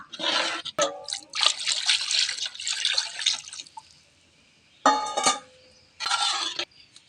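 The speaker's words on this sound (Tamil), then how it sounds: "குழம்புக்கு தேவையான அளவுக்கு தண்ணி ஊற்றிக்கலாம்." Water poured into a pot of Tamil fish curry (meen kulambu) splashes and trickles close by in several separate bursts, with quiet gaps between the pours.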